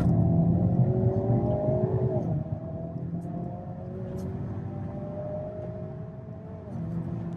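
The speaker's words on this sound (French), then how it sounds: "Très élastique à bas régime, le 2 litres suralimenté ne demande qu'à flirter avec la zone rouge" The turbocharged 2-litre engine of a Hyundai Kona N drones loud and close, with its pitch climbing, dipping and climbing again, and no talk over it.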